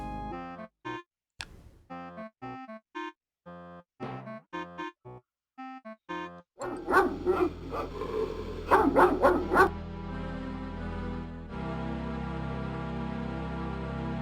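A dog in the adventure game King's Quest 7 gives a run of short, sharp barks and yips in a choppy rhythm, then fades into game music.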